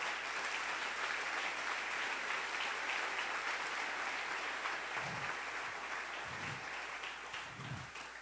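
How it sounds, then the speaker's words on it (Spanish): A church congregation applauds at a Sunday service, continuous even clapping throughout, fairly distant and soft, with a few low thumps near the end. "denle un aplauso a nuestro Rey"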